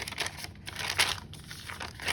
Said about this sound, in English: most paper crinkles, gets that crunchy sound if it's tea dyed